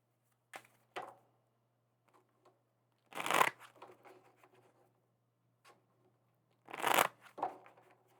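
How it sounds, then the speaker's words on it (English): Tarot cards being shuffled in a few separate bursts, crisp riffling and slapping sounds with quiet pauses between, close up. "These decks have already been pre-shuffled, Scorp, but we went ahead and did a little bit more together."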